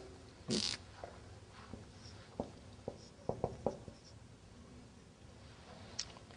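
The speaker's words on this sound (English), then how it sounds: "let me write it down" Writing by hand during a language lesson, heard as a few scattered, faint scratches and taps with a brief louder rustle near the start, set against a quiet background hiss.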